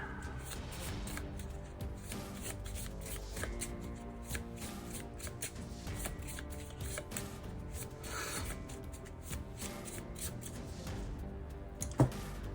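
Steady riffling of a deck of cards being shuffled up close, continuous papery flutter with a sharp snap near the end.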